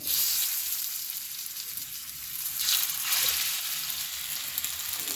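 Marinated fish pieces frying on a hot tawa for crisp fish fry give a steady, close hiss of sizzling oil that swells briefly as more pieces go in.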